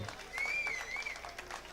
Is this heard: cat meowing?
no